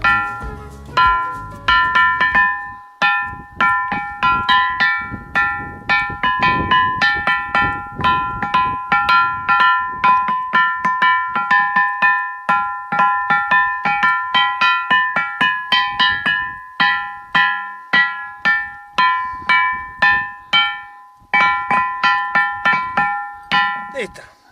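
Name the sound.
ringing stone struck like a bell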